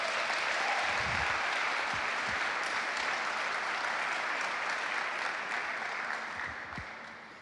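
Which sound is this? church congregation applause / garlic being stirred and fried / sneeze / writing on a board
church congregation applause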